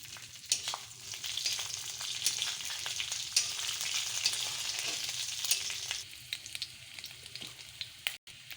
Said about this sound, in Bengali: আদা বাটা, আদাটাকে ভালো করে ভেজে নিতে হবে,